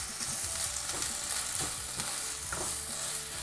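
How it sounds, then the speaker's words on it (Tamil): Chopped tomatoes sauté in a pan, a dense close sizzle with a spatula stirring and scraping in repeated strokes roughly every half second. No voices. "தக்காளி வந்து நல்லா வதங்கணும்."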